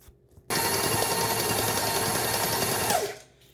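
A 6-quart KitchenAid stand mixer whips buttercream on speed 4, a steady close motor whir with a rhythmic beater churn that starts abruptly and then winds down and stops.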